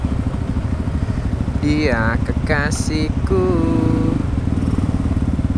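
A motorcycle engine revs and drones steadily and loudly close by at a traffic light, holding a constant throttle throughout while someone talks over it.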